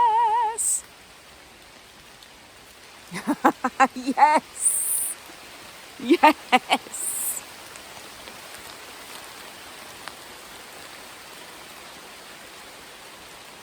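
Heavy rain pouring onto leafy trees in the woods, a steady soft hiss throughout, with a person's excited voice and brief rustles breaking in near the start and middle.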